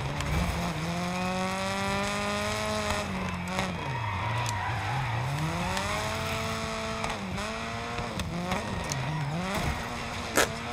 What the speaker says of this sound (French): Elle patine que quand elle a envie, cette caisse